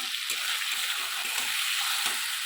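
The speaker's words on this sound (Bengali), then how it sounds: "রসুন বাটাটাও আমি দিয়ে দিলাম দিয়ে ভালো করে আমি এটা ভেজে নেবো টমেটোর কুচিগুলো আমি দিয়ে দিলাম" Garlic paste and chopped tomatoes fry in a pan with a steady, close hiss of oil, broken by faint soft scrapes of stirring, with no voices throughout.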